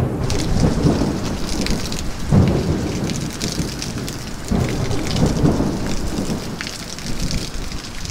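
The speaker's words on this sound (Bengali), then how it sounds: "তারপরেই ঝাঁপিয়ে বৃষ্টি" Heavy rain pours steadily and loudly in Panbu, Kalimpong, with deep rumbles of thunder rolling through the downpour and no voices.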